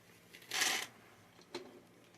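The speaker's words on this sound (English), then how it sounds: "Trying to get this little baggie open." A small plastic baggie of short screws for a walking robot build gets pulled open: one brief crinkly rustle, then a second smaller crackle, close and quiet, with no talking.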